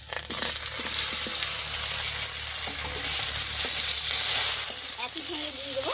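Boiled potatoes hit hot oil tempered with black cumin and green chilli, giving a loud continuous sizzle with a few stirring scrapes, close and without talk.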